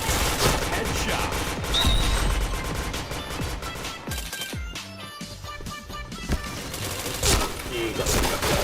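Rapid bursts of gunfire in the online shooter Point Blank, dense and loud across the clip with sharp individual shots and brief pauses, with a player's voice speaking over the game.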